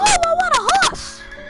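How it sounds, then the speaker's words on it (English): Horses in the Minecraft video game neigh in a loud, close whinny with a wavering, rising-and-falling pitch that lasts about a second before fading out. "Ooh, those horses sound ugly."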